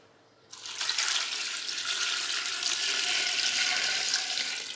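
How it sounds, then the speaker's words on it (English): Water running steadily into a pot of strawberries with lemon for homemade jam, a continuous close hiss and splash for several seconds, no talking. "I'm going to put some more water."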